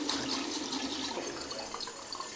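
Water runs steadily from a hot tap, a soft continuous splashing hiss with no speech over it.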